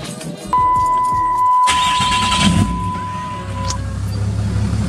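A Cummins diesel engine cranks and catches, then settles into a steady, loud idle close by, with a high whine sustained over the rumble for a few seconds.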